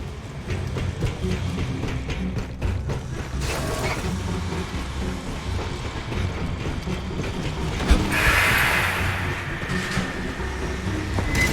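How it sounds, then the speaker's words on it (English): A large freight elevator rising up a main tower in Aliens: Fireteam Elite, a steady mechanical rumble and clatter that holds throughout, with a brighter grinding swell near the end. "Big freight elevator goes all the way up the main tower."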